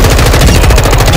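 Sustained automatic gunfire in Call of Duty Warzone 2.0 DMZ, a very loud, close, unbroken rapid stream of shots filling the moment with no talk.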